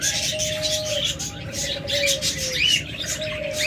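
Pair of pet birds in a bird-selling setting calling with steady, close chirps and thin tonal whistles, fairly loud and continuous with no talk over them.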